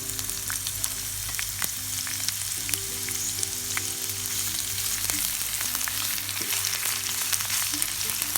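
Garlic, onion and green chillies fry in a pan with a steady, close sizzle that crackles and pops continuously throughout, with no talking.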